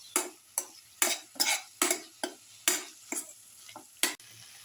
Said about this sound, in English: Sauteing for 3 to 4 minutes.